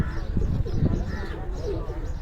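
A high-flying Punjabi racing pigeon coos softly in low, rolling notes while someone talks over it at close range.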